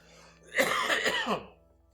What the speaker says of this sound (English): Told you I'm going to be hacking and coughing.